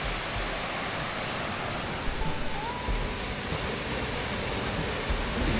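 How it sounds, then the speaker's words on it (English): Spring-fed mountain stream water rushes down a drainage in the Great Smoky Mountains, a dense, steady roar with no pauses that fills the whole space. "it's amazing how much this water just continually comes down from the top"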